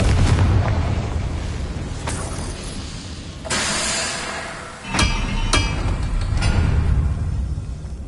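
Confringo blasting curse in Hogwarts Legacy, loud booming explosions and bursts over a dense, rumbling game soundscape, with several sharp impacts.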